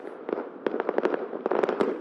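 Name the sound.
fireworks being let off at night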